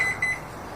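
A kitchen timer beeping during a homebrewing session for a Chinook IPA, a few faint, short high beeps with pauses, then it stops under quiet room noise.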